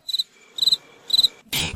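A cricket chirps in three evenly spaced, close pulsing trills, cut off by a short burst of noise at the end.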